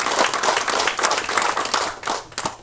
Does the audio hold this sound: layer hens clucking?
no